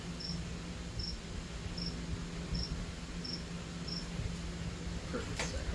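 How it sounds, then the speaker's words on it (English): Crickets chirping in regular, evenly spaced pulses against a steady outdoor background hiss. "Yeah, I like crickets."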